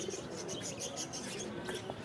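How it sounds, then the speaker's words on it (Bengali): Pigeons coo softly at a large pigeon market in Khalishpur, Khulna, low murmuring calls repeating under a steady background hum of market noise. "এনার কাছে কিন্তু প্রচুর কবুতর আছে"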